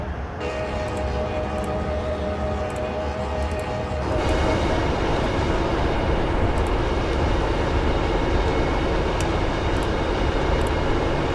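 Coaster commuter train in a Southern California train simulator game, a loud continuous engine drone and rumble with a tonal hum, growing heavier about four seconds in, with faint clicks over the top.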